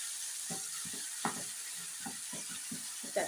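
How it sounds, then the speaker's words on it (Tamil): Mustard seeds frying in hot oil in a pan as garlic chutney goes in, a soft continuous sizzle with repeated quiet stirring scrapes and pops, faint and close, with no talking. "கடுகு பொரிச்சு சட்னி சேர்த்துக்கலாம்."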